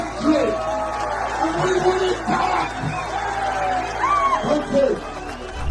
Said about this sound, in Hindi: यहाँ पर जो भीड़ आपको दिख रही है ये हजारों में नहीं बल्कि लाखों में है